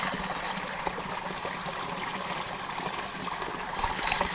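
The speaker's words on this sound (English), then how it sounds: "That's a little creek coming out of Lyons Falls." A small creek flows out of Lyons Falls in Mohican State Park, Ohio, a continuous close babble and trickle of water with no talking.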